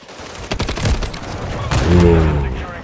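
Rapid bursts of gunfire in the video game Call of Duty Modern Warfare 3, a dense fusillade of shots and booms with a player's voice talking over part of it.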